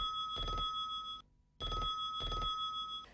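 A telephone rings with no one answering it, the loud electronic bell sounding in close repeated pairs, then a brief silent gap before the bursts return.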